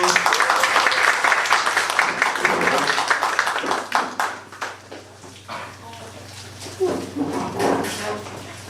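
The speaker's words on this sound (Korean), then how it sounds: "박수" A church youth group gives a burst of applause at a Sunday service, dense clapping that gradually thins, fading after about four seconds into scattered claps and a few spoken words.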